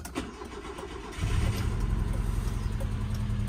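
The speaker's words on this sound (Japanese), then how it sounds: "今、アイドリングは上がってるんですけど" A Nissan S-Cargo engine, fuel-filter trouble and a probably failing fuel pump, cranks and catches after about a second, then settles into a steady, raised idle that holds loud and close for the rest of the moment.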